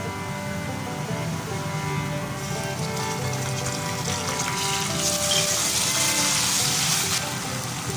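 Garlic and ginger fry with golden onions in a pan for chicken curry, a steady hissing sizzle that swells louder in the second half, close up and without talk.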